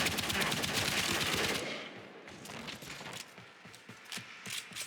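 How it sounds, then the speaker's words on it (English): Rapid automatic gunfire from the sci-fi shooter game Warframe, a dense loud burst of shots for the first half that then thins into scattered, quieter mechanical clicks and pops. "That's a lot of bullets to kill one dude."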